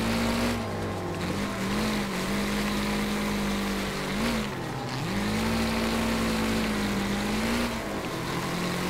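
Car engine in the racing game Wreckfest, holding a loud, sustained drone with a couple of brief dips and rises in pitch as the throttle shifts, continuous and close.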